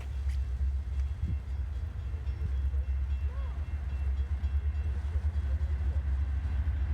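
A Norfolk Southern intermodal freight train rolls past up close, a loud, steady low rumble with rail and wagon noise that stays constant throughout, with no horn standing out.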